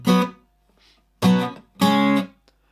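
Electric guitar strums three separate power-chord stabs, A5 then B5 shapes, the last hitting at the end of the bar, each ringing briefly and loud with gaps of silence between them.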